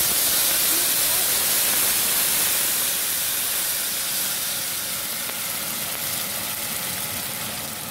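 Salsa poured into hot oil with a piece of onion, giving a steady loud frying hiss that eases slightly over several seconds, with no one talking.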